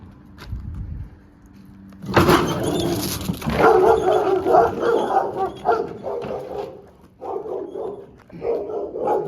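A dog barks and yips repeatedly at close range outdoors among autumn leaves, sharp irregular bursts with brief whimpers between them, loud and prominent after a short quiet start.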